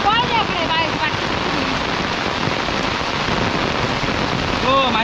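Heavy monsoon rain pouring steadily and loudly, a dense continuous hiss of drops on surfaces, with a voice faintly speaking under it at the start and end.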